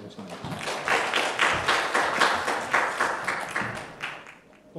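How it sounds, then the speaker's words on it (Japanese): An audience at a talk event claps for a teacher being introduced, a moderate patter of hands that swells and fades in uneven waves. "拍手の方よろしくお願いします。"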